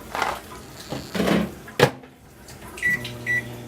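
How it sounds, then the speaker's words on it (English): A microwave oven runs with its steady hum and a high beeping tone, heating a bag of frozen vegetables such as string beans or broccoli in a cramped kitchen, after a few clunks of the door and cupboard nearby. "throw it in the microwave"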